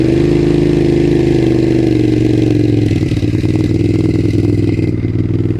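A 2002 Suzuki SV650 motorcycle engine runs at a steady, loud, close idle with a deep, even throb and a slight mechanical clatter, holding constant without voices.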